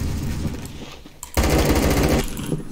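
An AK-12 rifle fires on burst in a video game, loud close rapid shots in a sustained stretch, dipping briefly in the middle before a denser, heavier string of fire.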